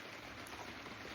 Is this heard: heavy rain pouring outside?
yes